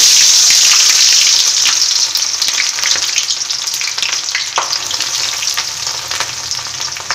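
Onions frying in hot oil for an egg curry, a loud, steady sizzle with crackling hiss that eases slightly after the first couple of seconds, broken by occasional stirring clicks.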